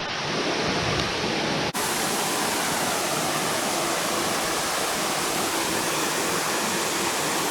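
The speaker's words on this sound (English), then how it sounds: "I'm about to take you to this waterfall" Caney Creek waterfall pours continuously in a loud, broadband rush of falling water, close and unbroken, with a slight shift in tone after the opening moments.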